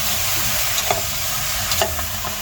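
Beef ribs and corn sauté in a pan for soup, a loud, constant frying hiss with intermittent scraping stirs and clinks, no speech.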